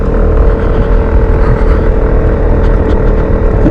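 An Aprilia SR150 scooter rolls along under a steady, loud engine drone and heavy wind rumble, its note holding constant throughout with no voices.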